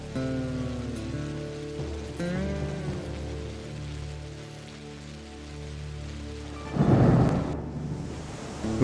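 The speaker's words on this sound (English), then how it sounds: "the valley rang in the new year with the sound of thunder" A rumble of thunder with falling rain from a valley storm at the 1997 New Year breaks out about two-thirds of the way through, under sustained musical tones.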